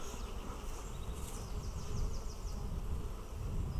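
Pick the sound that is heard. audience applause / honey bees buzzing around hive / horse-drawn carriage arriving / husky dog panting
honey bees buzzing around hive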